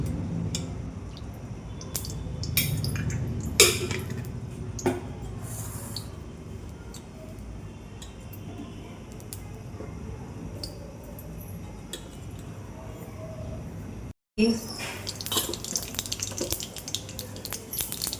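Water trickles and drips into a pan to soak kurdai for a kurdai kanda dish, a soft intermittent splashing with a few sharper drops, quiet overall, then a brief cut before louder clattering resumes.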